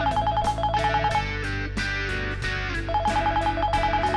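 A mobile phone rings loudly with a rhythmic electronic ringtone, repeating pulsed tones and beats that pause briefly before starting again.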